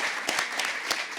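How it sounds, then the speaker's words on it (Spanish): Audience applause at a book presentation at Argentina's Biblioteca Nacional, a steady crackle of many hands with a few sharper individual claps standing out, fairly close. "A las que podríamos aplaudir"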